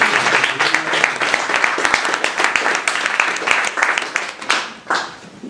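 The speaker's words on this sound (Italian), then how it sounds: "Allora un applauso a tutti." Lively applause from a crowd at a rugby meeting with a team captain, many hands clapping close and loud, thinning and dropping off near the end.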